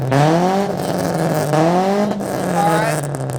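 A Ford car's exhaust at an exhaust competition revs loudly in a few rising and falling pulls, its deep droning tone swinging up and down close by.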